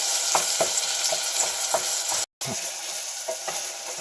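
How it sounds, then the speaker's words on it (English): Tomatoes fry for a spicy chicken curry, giving a steady close sizzle with rhythmic scrapes and stirs against the pan and one brief dropout partway through. "Now I'm gonna add the tomatoes. I have to cook the tomatoes very well as well."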